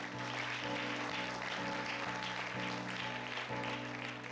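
A church congregation applauds together, a dense, steady wash of clapping filling the room at even loudness, with faint musical tones sustained underneath.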